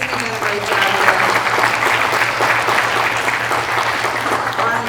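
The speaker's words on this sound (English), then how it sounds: "let's give Brian, our moderator, a round of applause." An audience at a youth vaping summit in Bentonville applauds the event moderator: steady, close, continuous clapping of many hands holding an even level for about five seconds, with no voices over it.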